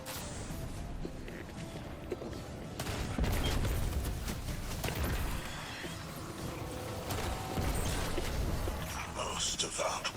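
Gunfire from a sci-fi shooter video game aimed at generators, a sustained rattle of rapid shots and bursts with impacts and mechanical clatter, mixed with game effects while a voice talks over it.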